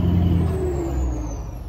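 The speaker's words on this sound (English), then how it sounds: "Nice big diesel truck driving by my driveway while I'm trying to film." A big diesel truck rumbles past a residential driveway, its low engine drone loud and steady from start to finish, with a brief air-brake hiss rising over the passing roar.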